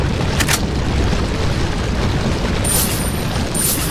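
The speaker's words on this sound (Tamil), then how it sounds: "பாம் போட்டோம்." A bomb detonates in the video game Resident Evil 4, a loud, sustained boom with heavy low rumble that fills the clip, with short sharper bursts layered on top near the start and end.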